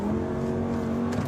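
A Lamborghini engine pulls steadily on track, a sustained droning tone rising slightly in pitch, loud and close with no talk over it.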